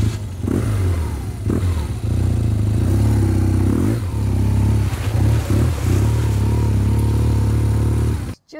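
A motorcycle rides through mud and water puddles, its engine loud and close with a steady low drone, short throttle blips and revving, plus splashing and clattering as it pushes through, cutting off abruptly at the end.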